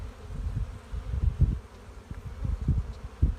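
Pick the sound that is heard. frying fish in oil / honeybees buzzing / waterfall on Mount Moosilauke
honeybees buzzing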